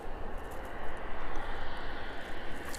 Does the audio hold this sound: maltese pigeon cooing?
no